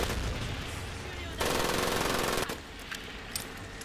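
Sustained machine gun fire in the Pacific-theater World War II shooter Medal of Honor Pacific Assault, a dense rapid burst that swells louder for about a second before cutting off, over a continuous background of battle noise.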